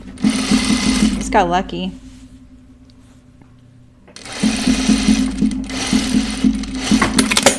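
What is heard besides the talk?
sewing machine stitching a shirtdress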